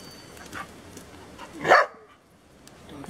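Dog in training outdoors gives a single loud, close bark, preceded by a couple of softer muffled yips against a quiet background.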